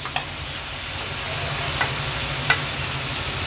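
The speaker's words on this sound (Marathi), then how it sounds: "आता कोलबी पण ह्या मसाल्यामध्ये आपल्याला परतून घ्यायची आहे" Prawns sauté in hot, spiced masala oil with a loud, continuous sizzle and a few brief scrapes of stirring, with no voices.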